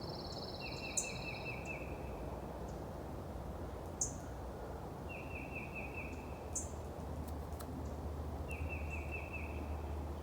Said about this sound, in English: we did hear a lot of birds singing and chirping in the forest canopy